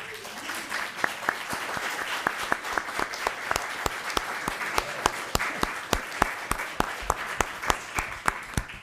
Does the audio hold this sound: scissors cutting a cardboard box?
no